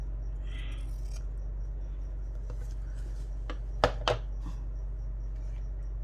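Scissors snipping through paper during a paper craft, a few short, crisp cuts close by, with two louder snips near the end over a quiet background and no talking.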